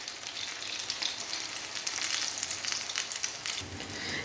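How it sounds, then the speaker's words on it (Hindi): Chicken and vegetable cutlets fry in a pan with a steady, close sizzle and light crackle that runs unbroken for several seconds with no talking. "ये देखें दोनों साइडों से फ्राई हो चुकी हैं।"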